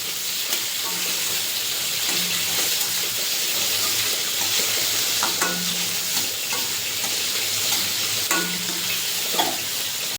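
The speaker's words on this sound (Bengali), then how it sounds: "উল্টে পাল্টাকে ভেজে নেব একটা লালচে করে।" Prawns being turned in hot oil, a steady close sizzle broken by periodic scrapes and knocks of a spatula against the pan, with no talking.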